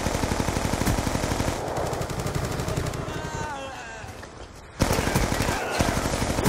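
Rapid automatic gunfire from the video game Black Ops 2, dense rattling bursts that ease off midway under a brief chirping effect, then resume sharply and loud.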